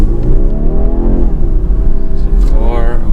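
A 2023 BMW 430i Convertible accelerates hard at full throttle, its engine note loud and close, rising steadily in pitch as it revs, with a brief voice over the engine.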